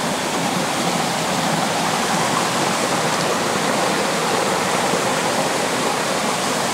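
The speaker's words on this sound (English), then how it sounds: "It sounds like the waterfall." A waterfall and flowing stream in a Japanese garden pour in a loud, steady rush of white water, constant and close, with no voices over it.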